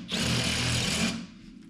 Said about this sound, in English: I'll get a taper bit and we'll drill them.